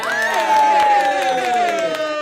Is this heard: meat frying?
no